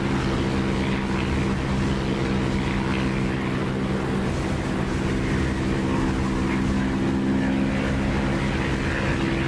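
A propeller aircraft climbs in the DCS flight simulator game, its engine drone loud and steady throughout with strong low harmonic hum and no talking.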